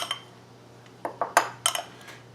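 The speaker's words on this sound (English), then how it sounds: "So now get a dry spoon and mix" A dry spoon mixing a powdered spice rub of garlic and onion powder in a bowl gives a few quick, close clinks and scrapes in short bursts between quiet pauses.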